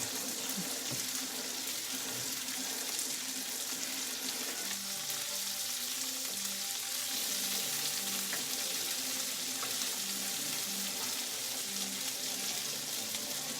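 Pasta being tossed in a hot pan with tomatoes, egg and Parmesan for carbonara, a continuous soft sizzling hiss with faint stirring and scraping throughout.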